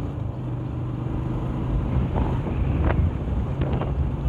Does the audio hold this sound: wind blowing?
yes